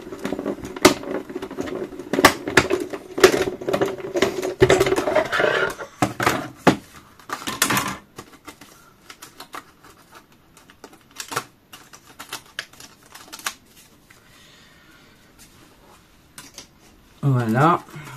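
A die-cutting machine runs a scrapbooking Christmas card through, giving bursts of rapid mechanical clicks and ratchets, loud and close, that thin out into scattered clicks and pauses, with a short voiced sound near the end.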